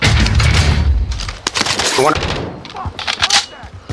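Sustained gunfire in a first-person shooter game, with quick cracking bursts at the start and more shots scattered later, mixed under players talking on voice chat.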